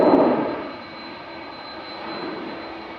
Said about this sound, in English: You can hear them CF6s already in the background.